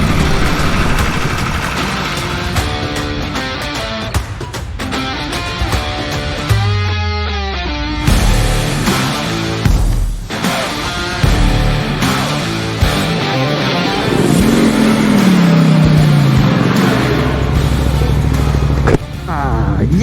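An Aprilia RS 660 motorcycle engine idles and revs up close, with sharp throttle blips, rising and falling engine pitch and a steady idle, while someone speaks over it at times.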